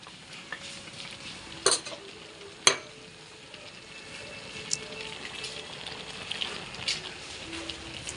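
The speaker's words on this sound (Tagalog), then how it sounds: "Konting kulo pa guys. Kuluin lang natin." Carrots and potatoes simmer in a pot, a soft steady bubbling hiss with a few sharp clinks of a utensil against the pot.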